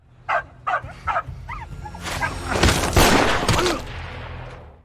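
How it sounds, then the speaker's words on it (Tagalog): A dog barks several times in a quick series, then a noisy burst of commotion and rumbling follows, close and fairly loud. "Dahil sa ingay ng aso"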